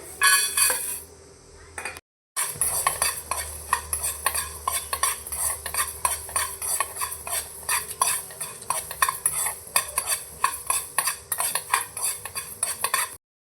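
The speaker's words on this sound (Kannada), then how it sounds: "ಇವಾಗ ಈ ಮಸಾಲೆ ಪದಾರ್ಥನೆಲ್ಲ ಜಸ್ಟ್ ಬಿಸಿ ಮಾಡ್ಕೊಳ್ಳೋಣ, ಹಸಿ ವಾಸನೆ ಸ್ವಲ್ಪ ಹೋಗಲಿ." A spoon stirs whole masala spices being dry-roasted in a hot pan for a goat head and leg curry, with repeated scraping and clinking strokes and a light sizzle, close up and loud, broken by a brief pause.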